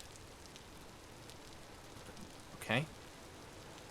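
Steady rain falls in a modded video game, a soft, even hiss that runs throughout, with a brief louder rustle near the end and a voice speaking once.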